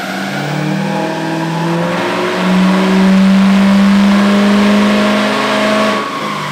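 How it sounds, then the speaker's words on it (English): L5D Duramax diesel truck engine revving hard through a fifth gear dyno pull, a loud rising drone that swells and holds near its peak before easing off, with no talk. "So guys, let's make a fifth gear dyno pull."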